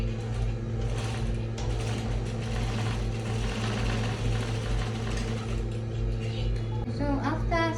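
A sewing machine stitches a folded fabric skirt band, its steady mechanical whir and rapid ratcheting running continuously at close range, with a brief clatter near the end.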